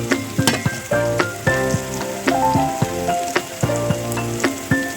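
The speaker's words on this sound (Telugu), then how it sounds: "ఈ విధంగా ఫ్రై చేయాలి." Onions fry in a pan until brown for egg rice, making a loud, steady sizzle broken by regular stirring pulses, with tonal background music running underneath.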